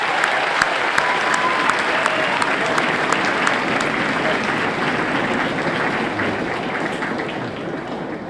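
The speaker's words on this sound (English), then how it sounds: "Round of applause." Sustained applause from a large audience at a military boot camp graduation fills the clip, a steady dense patter of many clapping hands with a few sharper claps, slowly tapering toward the end.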